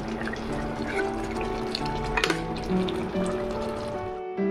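Homestyle mushroom and egg curry with garam masala simmers in a pan, giving a steady, close bubbling sizzle that runs throughout under light background music.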